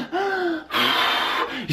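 A voice imitates the breathless panting of exhausted football players: a few sharp, wheezy gasping breaths in quick succession, close and fairly loud, with no words.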